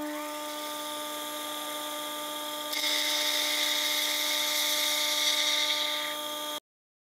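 A metal lathe in a home shop facing the end of a brass clock pillar for a foliot clock: a steady high motor whine, then a louder cutting tone joins it for a few seconds before everything stops abruptly.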